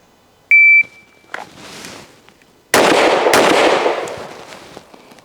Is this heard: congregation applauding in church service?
no